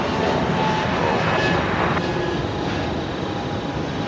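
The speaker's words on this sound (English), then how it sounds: "There goes the A220." An Airbus A220 airliner passes at Brisbane Airport with a steady, loud roar of jet engines, a broad sustained rumble that holds level throughout, no talking.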